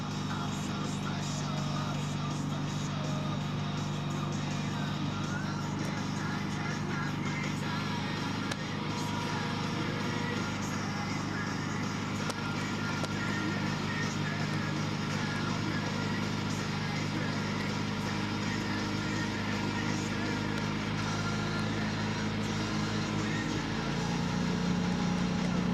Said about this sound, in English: now I've started the car just a few minutes ago